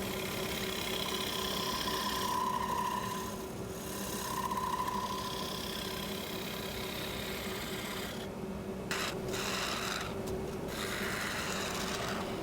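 A wood lathe turns granadillo while a scraper cuts the spinning workpiece, giving a steady motor hum with a faint continuous scraping hiss that dips briefly a few times.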